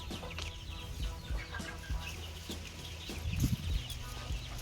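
A flock of Giriraja chickens clucks steadily close by, soft repeated calls overlapping, with a louder burst of clucking near the end.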